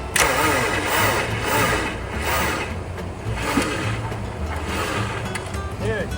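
A Honda Civic's engine turns over and runs roughly but fails to start, its belt not spinning, a steady mechanical drone with sputters, heard up close with no one talking.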